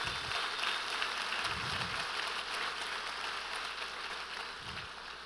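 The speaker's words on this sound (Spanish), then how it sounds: "usted le dé un fuerte aplauso al Señor" Sustained applause from a large church congregation, a dense steady patter of clapping that holds throughout at moderate volume.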